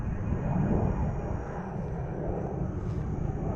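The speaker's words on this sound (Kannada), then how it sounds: "ಫ್ಲೈಟ್ ನೋಡಿ ಗೈಸ್, ಫ್ಲೈಟ್ ಹೋಗ್ತಿದೆ" A fixed-wing airplane passes overhead at midnight, a steady broad engine roar with a faint high whine that holds level throughout, fairly quiet and with no voices.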